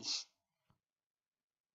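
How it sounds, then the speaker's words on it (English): A single sharp sneeze bursts out close by at the start, then near silence with a couple of faint soft clicks. "Sorry, I had to sneeze."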